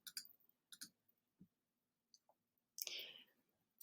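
A single mouse click on a cancel button while entering an advertising awards submission form online, sharp and close among a few other soft clicks and ticks in a quiet room.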